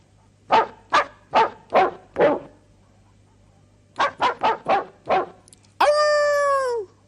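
A sampled dog bark from a Fairlight CMI library plays as a crisp run of five loud barks, a pause, then five quicker barks, finishing in a long, drawn-out pitched howl-like tone, close and dry with no voices.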